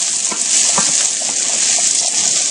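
Steady hissing rush of water poured into a hot pan of frying rice, sizzling continuously for a couple of seconds with no voices.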